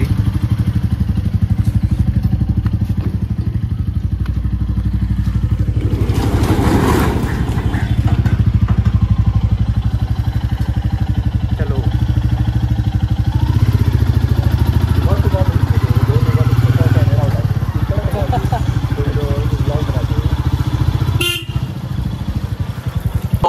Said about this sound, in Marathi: बाईक तर आली आपली.